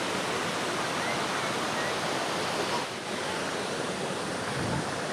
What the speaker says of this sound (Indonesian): Guci-guci tersebut itu ngeluarin air panas gitu ya